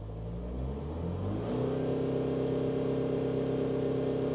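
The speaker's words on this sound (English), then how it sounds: "Let's just rev it again." A BMW 3 Series diesel engine revs up from a low idle to a steady higher-speed drone, heard close and alone, holding the raised revs after a smooth climb.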